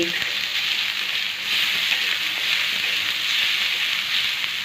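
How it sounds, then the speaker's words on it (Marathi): Onions frying red in a pan for a spicy drumstick curry, a loud, even hiss of sizzling oil with faint stirring underneath. "आता आपला कांदा छान लाल परतून झालेला आहे"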